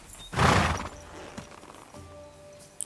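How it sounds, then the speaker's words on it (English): A horse in the video game Kingdom Come Deliverance 2 gives one loud, close whinny near the start, followed by a soft hoof thud and a low ambient hum. "There is the horse."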